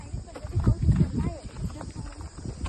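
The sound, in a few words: horse walking, hooves clip-clopping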